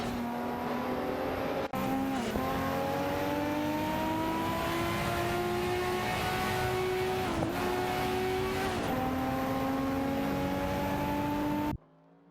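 In a racing video game, a Chevrolet Corvette C4 ZR1 and a Dodge Viper GTS ACR battle closely, their engines droning loud and steady with pitch dips at gear shifts and brief drops under braking.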